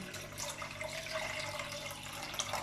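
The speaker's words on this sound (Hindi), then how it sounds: "पानी ऐड करेंगे 3 से 4 गिलास" Water is poured from glasses into a pot of beef for yakhni, a steady splashing, gurgling flow heard close up with no talking.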